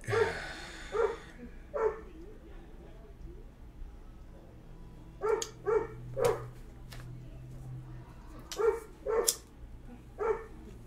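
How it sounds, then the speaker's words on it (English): A dog barking in short, sharp bursts, mostly in clusters of two or three, separated by quiet pauses, fairly close and clear. "This dog is crazy."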